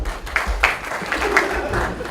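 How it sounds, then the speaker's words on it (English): A school audience claps softly together on cue, a light scattered patter of hands that rises and falls over a couple of seconds, with no talk. "can everybody clap nice and quietly?"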